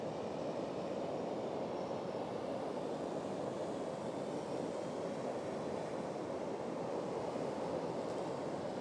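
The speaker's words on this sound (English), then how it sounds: "So I can hear the beautiful sound of the ocean behind me." Ocean waves on the shore at sunrise: a constant, full-bodied surf roar, even and unbroken throughout, heard from close by with no voices.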